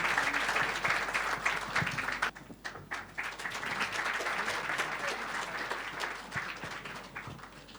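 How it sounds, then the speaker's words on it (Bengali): An audience at a student success seminar in Bengal gives sustained applause for a scholarship honoree. Many hands clap densely, a little quieter midway, then the clapping keeps going throughout. "সবাই জোরে হাততালি"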